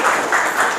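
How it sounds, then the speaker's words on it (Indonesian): Classroom applause during a teaching practice session, a steady wash of many hands clapping throughout, fairly loud and continuous with no talk over it. "Kita aplaus dulu ya."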